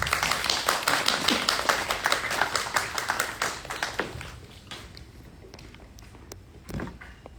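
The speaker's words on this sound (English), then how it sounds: "Give them a round of applause." Audience applause at a coffee-talk event hosted by a consulate, dense clapping for about four seconds that thins into scattered claps and fades out.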